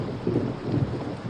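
Steady rain pours with a low rumble of thunder rolling beneath it, a short, fairly quiet stretch of continuous wash and deep grumble with no voices.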